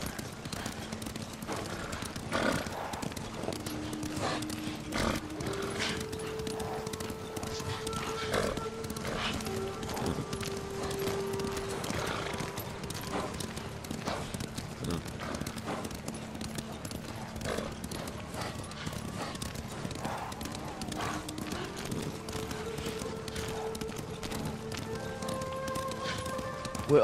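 Horses gallop in Ghost of Tsushima, with steady, rapid hoofbeats running through the whole stretch over a bed of game music, and a whinny rises now and then.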